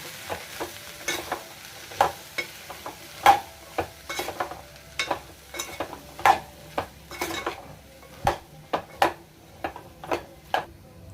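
Green peas are stirred and fried in a pan with turmeric and coriander powder. A spoon scrapes and taps the pan in a fairly regular series of close, crisp strokes over a light sizzle.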